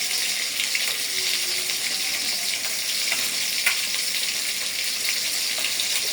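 Spice-coated small fish fry in hot oil in a wok, giving a loud, continuous close sizzle with occasional crackles and pops, and no voices.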